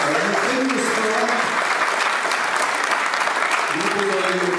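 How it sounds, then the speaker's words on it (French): Dense, steady applause from a large audience at a launch ceremony for an Olympic year, honouring young people and sport, sustained and loud throughout with voices faintly mixed in. "Je vous propose qu'on applaudisse à la fois les jeunes et le sport."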